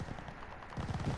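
A weapon in Call of Duty: Vanguard fires in rapid bursts at about 12 rounds per second, a dense run of low thuds that grows louder toward the end, heard alone with no talk.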